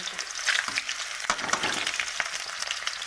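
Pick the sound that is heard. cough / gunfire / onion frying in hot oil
onion frying in hot oil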